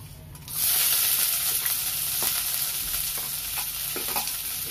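Chopped onion is dropped into hot frying oil for an aloo chole dish. After a brief quiet start it bursts into a loud, close, steady sizzle, with occasional stirring taps.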